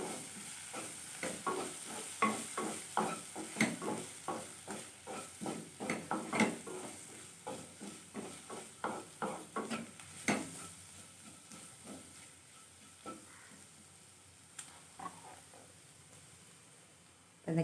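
Kuzhambu chili powder and spices stirred in a frying pan for Tamil baby potato fry, making brisk rhythmic scraping strokes over a soft sizzle that thin out toward the end, with no talking.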